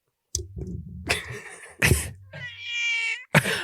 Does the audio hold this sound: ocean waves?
no